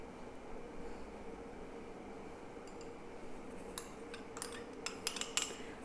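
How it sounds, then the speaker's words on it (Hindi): Chana chaat of chickpeas, potato, spices, vegetables and tamarind chutney being stirred together in a bowl, with soft clinks and scrapes of a spoon growing busier toward the end over a steady low background hiss. "अब इस सारी चाट को हमने मिक्स कर लेना है"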